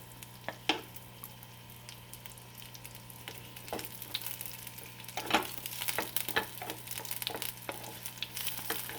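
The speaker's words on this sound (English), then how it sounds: "take 1 teaspoon of ghee and we will put the seedless dates and we will saute it for some time" Seedless dates sautéing in a teaspoon of ghee for sugar-free modak: a quiet sizzle with scattered scrapes and taps of stirring that grow busier toward the end.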